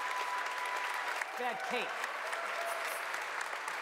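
A theatre crowd at PAX West applauds steadily for several seconds, a dense wash of clapping while a voice speaks briefly over it.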